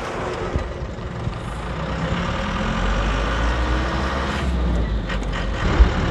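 A truck cruises along a highway in India, heard from inside the cab as a steady low engine drone with constant road rumble, and a brief knock near the end.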